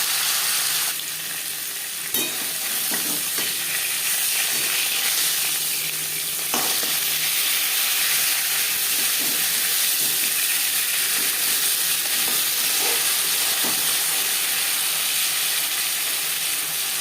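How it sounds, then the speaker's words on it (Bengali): Rohu fish heads fry in hot oil in a pan, giving a steady, dense sizzle that runs throughout with a few faint clinks and stirring noises and no voices. "মাছের মাথা ভাজা হয়ে গেছে একটা পাত্রে উঠতে দেবে"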